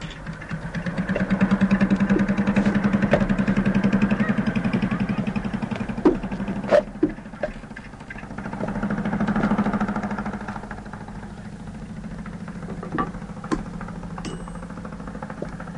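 A small motorcycle engine idles nearby with a rapid, knocking putter that swells and fades, plus a few sharp clicks and knocks.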